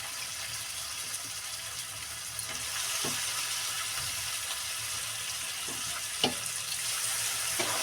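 Paneer sizzling in a pan for a vegetarian palak paneer, a steady hiss of frying oil running throughout, with a few soft clinks and stirring knocks near the middle and end.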